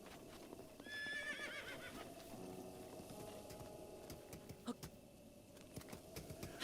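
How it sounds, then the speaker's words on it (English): Horse from Zelda: Breath of the Wild neighs loudly once near the start, followed by steady clip-clop of hooves close by under ambient game sounds. "The horse is too close."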